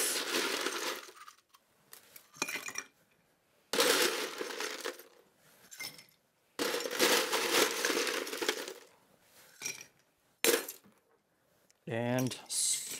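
Ice cubes tumble into a cocktail mixing glass holding cognac in several clattering bursts, followed by a brief rattling swirl at the end.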